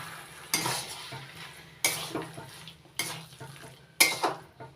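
Prawns and taro leaves cooked village style, stirred in a pan: four firm scraping strokes about a second apart over a low, constant sizzle, close and fairly loud.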